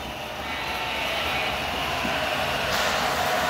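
A steady, faint rumbling hum of a Lionel Southern Pacific GP38 model electric train running along its track pulling box cars, continuous and even throughout.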